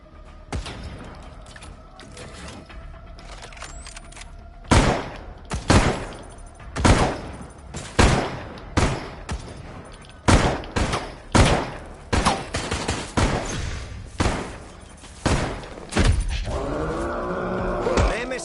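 Rapid bursts of automated turret gunfire in the video game Resident Evil Resistance, roughly a dozen loud sharp volleys spaced irregularly over a low game rumble, with a brief tonal game effect near the end.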